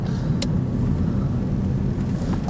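Car engine rumbling low and steady from inside the vehicle as it pulls in, a possible fault with the car, one brief higher click near the start.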